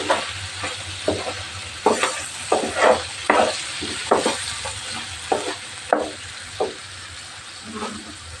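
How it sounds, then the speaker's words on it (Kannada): Chicken pieces dry-frying in a pan with turmeric and no oil, giving a soft continuous sizzle broken by repeated scraping stirs of a spatula at close range. "ನಾನು ಡೈರೆಕ್ಟಾಗಿ ಹಾಗೇ ಫ್ರೈ ಮಾಡ್ತಾಯಿದ್ದೀನಿ."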